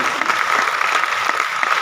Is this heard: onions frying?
no